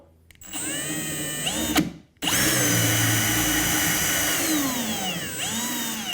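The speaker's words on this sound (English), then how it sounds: "drill some holes on the center line that we can run some screws up through into the skeg" A power drill whirs up close in two runs, briefly stopping between them, its pitch dipping as the bit bites into a wooden boat skeg.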